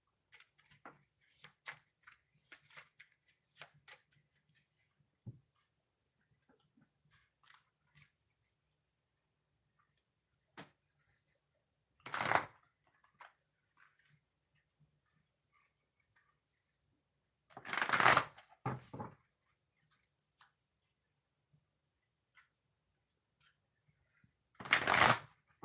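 Tarot decks are shuffled in bursts of riffling and sliding card noise separated by quiet pauses, close and crisp, with a few louder riffles standing out.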